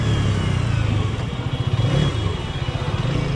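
Hero Xmr 210 motorcycle engine on a test drive, a steady low rumble with pulsing throb and broadband road wind noise, loud and continuous throughout.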